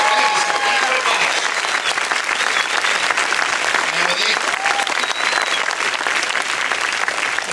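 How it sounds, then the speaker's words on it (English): Steady, dense applause from a crowd fills the whole stretch at a loud, even level, with a few voices and whistles mixed in. "big round of applause"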